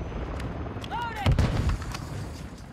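Gunfire from an FTAC Siege in Modern Warfare II crackles in a short, loud cluster of shots in the middle, with a rising whistle just before and someone talking over it.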